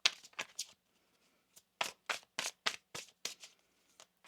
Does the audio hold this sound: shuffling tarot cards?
yes